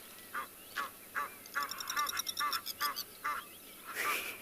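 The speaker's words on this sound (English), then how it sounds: "And some very, very noisy Egyptian geese." Egyptian geese calling at a waterhole on a sunrise safari at Tswalu, a series of harsh, honking, wheezy calls repeated in quick bursts, moderately distant and fairly loud against a quiet outdoor background.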